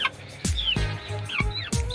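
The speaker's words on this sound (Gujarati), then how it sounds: "એ મરઘો છે પણ મસ્ત ક્વોલિટીમાં છે" Desi rooster on a rooftop poultry farm gives several close, sharp clucks in quick succession, with brief squawky rising calls between them and no talking.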